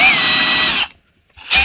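An Einhell TH-CD 12-2 Li 12V cordless drill whirs loudly at steady speed, then stops; after a short silence it gives another quick burst.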